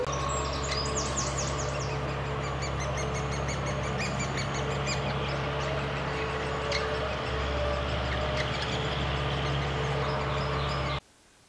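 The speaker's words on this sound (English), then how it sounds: "the fledglings are quite vocal in wanting the parents to come to the nest hole to feed them" Great spotted woodpecker fledglings call from a nest hole, repeated high chirping calls scattered over a steady low hum of background noise, the calls moderately loud and persistent throughout.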